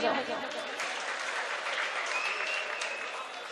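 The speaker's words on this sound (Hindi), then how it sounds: "तालियां बजाओ।" Audience at a mushaira in 2016 breaks into applause, a steady dense wash of clapping from a sizeable crowd lasting the whole stretch at an even level.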